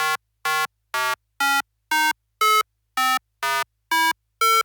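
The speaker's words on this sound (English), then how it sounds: "This melodic sound stood out to me right away as something I could use as a melody." Bright synthesizer tones from a Pocket Operator pocket synthesizer play a short melody of evenly spaced notes, each a buzzy, clean electronic pulse with a steady rhythm and no voices.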